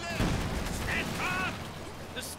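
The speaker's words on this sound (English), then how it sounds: "They are shooting at our vehicle!" Gunfire strikes a vehicle during a battle in the World War II strategy game Company of Heroes 2, a dense, continuous rattle of shots under game voice callouts and dramatic background sound.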